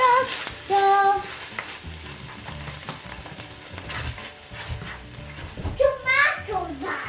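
Chicken mince pasta with fresh cream being stirred in a pan, scraping and soft sizzling heard with children's voices and music-like tones around it.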